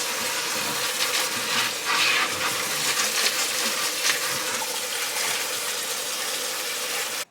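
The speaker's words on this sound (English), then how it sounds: "I'm gonna give it another rinse." Running water rinses a potted variegated monstera in a semi-hydroponic setup, a steady close splashing gush that continues unbroken for several seconds before stopping abruptly.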